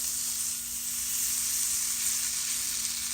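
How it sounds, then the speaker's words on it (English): Butter melts in a pan ahead of poaching salmon, giving a steady, even hiss of sizzling that holds at a moderate level throughout with no voices. "So we're just going to melt the butter."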